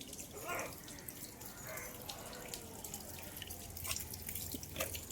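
Municipal tap water runs steadily from a tap while a muddy front yard is washed after rain, a continuous moderate splashing and dripping with no talk.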